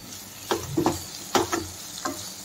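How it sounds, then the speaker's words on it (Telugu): Tomatoes go into a frying ridge gourd curry in a pan and are stirred, giving a few soft scraping stirs with light sizzle underneath, spaced about half a second apart. "ఇప్పుడైతే కొంచెం టమాటాలు వేసేసుకున్నాం"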